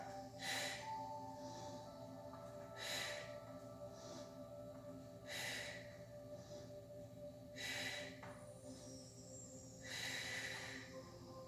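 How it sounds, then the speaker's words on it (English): Slow, faint yoga breathing: about five soft breath cycles, each a breathy rush of air in and out, spaced roughly two and a half seconds apart over a low steady hum, with no talk. "Deep breath in. Exhale."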